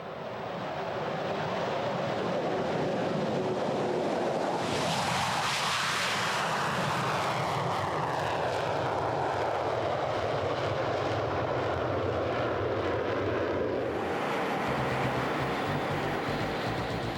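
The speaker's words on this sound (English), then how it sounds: "National Guard units such as these F-16Cs of the New Jersey Guard, based at Atlantic City." New Jersey Air National Guard F-16C fighter jets based at Atlantic City fly past with a loud, sustained jet roar that swells and shifts in pitch midway as they pass close, then settles into a steady rumble.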